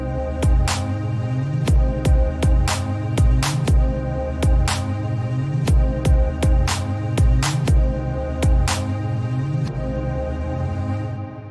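A synth from an audio plugin playing a repeating run of notes, with punchy, bass-heavy attacks falling in a steady rhythm, loud and close throughout.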